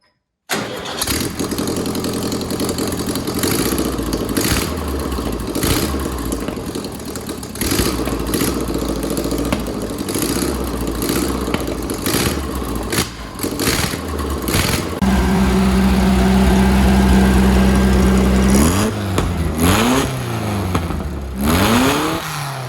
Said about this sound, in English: we got this whole motor back together, got the carb set up, and it runs, idles all right